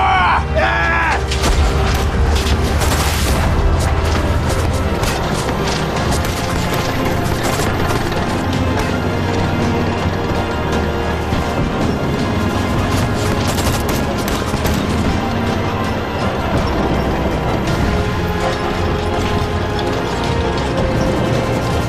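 Artillery and rifle fire from a Korean War film battle, street fighting in Seoul: a dense, loud, continuous barrage of booms, cracks and clattering mechanisms, with shouting voices underneath.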